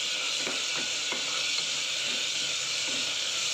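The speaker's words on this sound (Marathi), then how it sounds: "आता आपण मटकी टाकून घेऊया त्याला छान आपल्याला मिक्स करून घ्यायचं" Moth beans (matki) fry in a pan while being stirred, a constant loud hiss of sizzling oil with a few soft scraping strokes of the spoon breaking through it.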